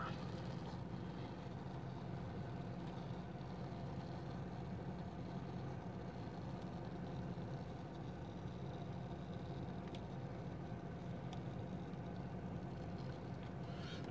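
Car air conditioner running inside a vehicle, a steady, even whooshing hum that stays constant and fairly quiet throughout with no speech over it.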